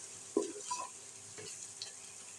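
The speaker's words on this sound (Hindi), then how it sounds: "इसको भी आपने ये देखिए इस तरह से ना भून लेना है" Kofta curry ingredients sauté in a pan with a soft, quiet sizzle, broken by a few faint scrapes and taps of a spoon stirring.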